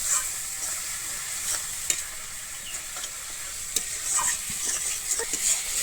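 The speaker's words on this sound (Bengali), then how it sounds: "হলুদ দিয়ে আমি আবারও খুব ভালোভাবে এখানে কিন্তু কষিয়ে নেব" Spices with turmeric being sautéed in a pan for a vegetarian jackfruit and potato curry, a constant bright sizzle broken by repeated scraping stirs and occasional clinks, close up with no voices.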